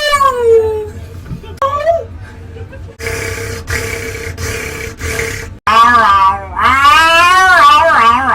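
A pet cat meows in drawn-out, wavering calls, with several loud cries near the start and a longer, strong run toward the end, mixed with voices and other household noise.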